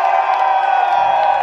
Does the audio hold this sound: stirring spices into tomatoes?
no